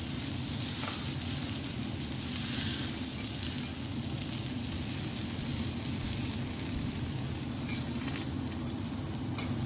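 Filet mignon sears on a hot grill at a steakhouse in Japan, a steady dense sizzle and hiss that holds evenly throughout, close and continuous with no talk.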